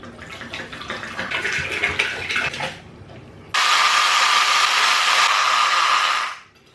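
Mead mixture being poured and stirred for aeration, first a splashing, bubbling stream that fades, then a steady loud rushing whoosh of liquid that stops abruptly.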